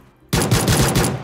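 Rapid pistol fire in PUBG Mobile, a loud burst of several close shots in quick rhythm, starting abruptly after a brief quiet moment.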